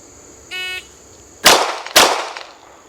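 Two loud, sharp pistol shots from a DA/SA handgun, the first on the heavier double-action pull and the second about half a second later on the single-action pull, each followed by a short ring-off, with a brief electronic timer beep before them.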